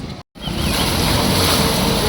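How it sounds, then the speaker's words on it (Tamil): An Ather electric scooter ploughs through rain floodwater on a road in Madhavaram, Chennai, making a continuous close rushing splash mixed with wind buffeting, with a brief dropout near the start. "ஏத்தர் மட்டும் தண்ணியை கிழிச்சிக்கிட்டு போதியா?"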